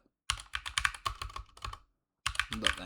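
Computer keyboard keys tapped in quick bursts to enter a terminal command, close and clear, with a short pause midway and no talking.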